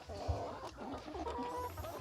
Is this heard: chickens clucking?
yes